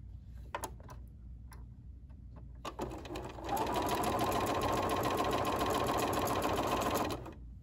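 A sewing machine runs a steady, fast stitch along a quarter-inch seam on a quilt panel, starting after a few short bursts and holding a loud, even whir for several seconds before stopping.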